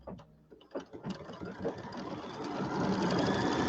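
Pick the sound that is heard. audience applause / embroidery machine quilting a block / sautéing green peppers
embroidery machine quilting a block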